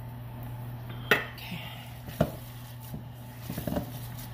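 Ground meat for meatloaf being mixed with tomato sauce in a bowl, with a few sharp clinks of utensil against the bowl and soft, wet squelching and scraping over a steady low hum, no talking.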